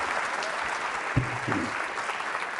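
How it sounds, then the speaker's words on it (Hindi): Applause from a university quiz show audience at a Holi-themed event, a steady wash of many hands clapping at moderate distance, with a brief thump partway through. "पूजा जी के लिए भी तालियां जोरों से बजाइए"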